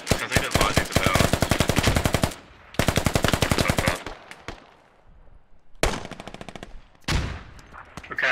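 Automatic rifle fire in the military shooter game Squad comes in rapid, loud close-range bursts with sharp separate shots, then short gaps, scattered single cracks and later renewed bursts.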